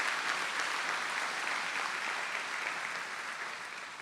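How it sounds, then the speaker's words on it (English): A big round of applause for Hall of Fame members at a women's athletics ceremony, dense even clapping from a crowd that holds steady and then slowly fades. "Let's give all these folks a big round of applause."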